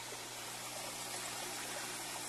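A small pump drains a water tank for a fish harvest, giving a steady, close rushing and trickling of water that runs unbroken throughout.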